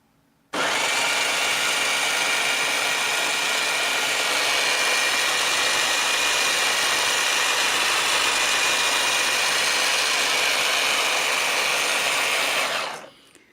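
An all-wheel-drive RC car's motor spins all four wheels under a little throttle, giving a loud, steady, close whine that holds evenly for about twelve seconds and then cuts off, with no talking.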